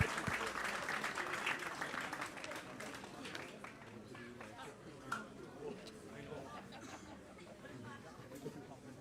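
Crowd applause for the runners-up Rockmount at a Munster Senior Cup final presentation, a fairly faint, steady patter of clapping mixed with murmuring chatter from people nearby.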